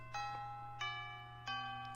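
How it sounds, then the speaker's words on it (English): School bell chime in the Hatoful Boyfriend video game, three clear bright ding-dong tones struck in even succession over a low steady hum, with no talking. "Ah, that's the bell."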